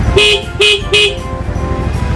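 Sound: motorcycle horn honking

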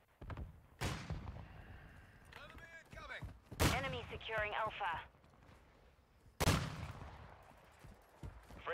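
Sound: sniper gunfire in a video game

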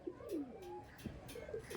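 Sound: pigeon cooing

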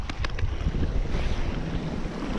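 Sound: strong gusting wind at the coast

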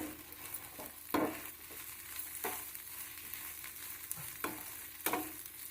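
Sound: stirring chili powder into frying flat bean fry

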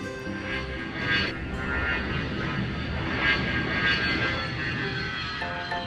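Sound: cartoon airplane engines starting up

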